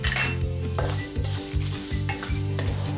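Spices and red chilies dry roasting in a pan give a steady crackling sizzle with a rhythmic scraping of stirring against the metal, close and fairly loud, with no talk.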